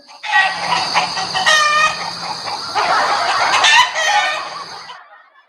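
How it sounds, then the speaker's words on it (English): Hens cackle and cluck excitedly in a steady, busy chorus, with a rooster's crow breaking through near the middle before the flock noise fades out. "Oh my God, the cackling hens are going wild again."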